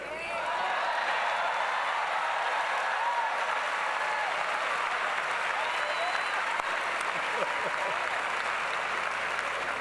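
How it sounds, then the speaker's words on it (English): A large crowd claps for newly elected alderpersons at the Chicago mayoral inauguration, a loud, dense, sustained applause that fills the room for about ten seconds. "I'm gonna turn around and clap for them"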